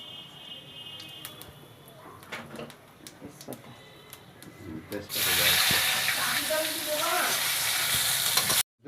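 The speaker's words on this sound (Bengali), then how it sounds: "এবার তেলের ভিতরে কিছু সাদা জিরে, কালো জিরে মিক্স" White and black cumin seeds hit hot oil in a pan while cooking shoal fish, bursting into a loud, steady sizzle that holds for several seconds after quieter kitchen clatter.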